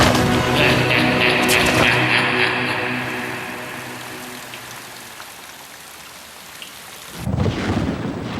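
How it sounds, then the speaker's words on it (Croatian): A thunderstorm with dense, steady rain and a loud rolling thunderclap at the start that slowly fades, followed by a fresh surge of heavy rain near the end, with no talking. "Munje su u zaglušnu grmljavinu parale nebo."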